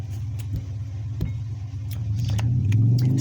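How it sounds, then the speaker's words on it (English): A loud motorcycle engine rumbles steadily outdoors, growing heavier toward the end as it revs, with a few faint clicks over the low drone. "There's a very loud motorcycle outside."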